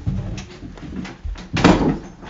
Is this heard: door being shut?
yes